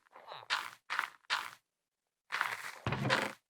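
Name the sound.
Minecraft composter composting, from a video game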